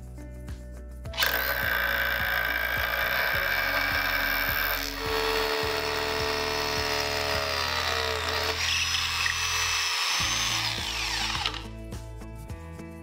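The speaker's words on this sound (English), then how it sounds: "the first step is to drill the correct size hole through your fixture and into the substrate" An SDS hammer drill with an 8mm bit bores a hole through a timber fixture into the substrate for a hammer-fixing anchor, a loud continuous grinding whine with rapid percussive hammering that runs steadily for about ten seconds, briefly dipping midway.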